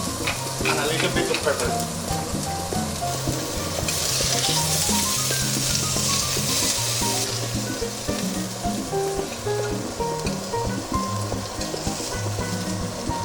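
Previously cooked asparagus reheating in butter in a pan, seasoned with salt and pepper, sizzles steadily and loudly throughout with occasional stirring clatter, while a voice speaks briefly at the start.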